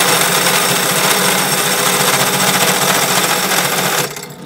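A compact router cuts into pot metal, giving a loud, continuous high-pitched whine and buzz that holds steady for about four seconds before cutting off abruptly.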